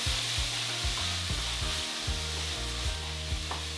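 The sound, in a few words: soy sauce bubbling and sizzling in a quinoa stir fry pan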